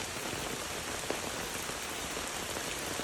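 Fast-flowing stream water, swollen by rain, rushes in a continuous, even hiss, with a faint patter of droplets, steady from start to finish.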